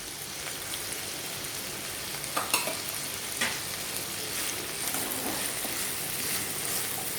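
Cauliflower and capsicum frying in a kadai, a steady rain-like hiss of oil with a few scraping stirs and spoon knocks, close and uninterrupted by talk.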